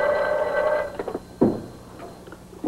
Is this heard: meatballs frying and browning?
no